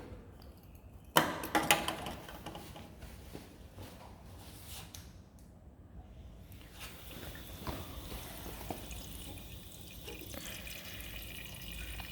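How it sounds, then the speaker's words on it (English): Water is poured into the water tank of a handheld continuous-wave laser welding and rust removal machine, a soft trickle and splash after a few clattering knocks, fairly quiet throughout. "before you use this machine, you need to add water in the water tank"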